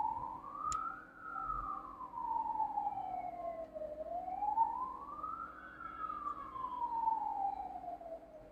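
A wailing siren from the fire department chief's vehicle heading to a fire in Makassar, rising and falling in slow sweeps, fairly close, over a low engine rumble.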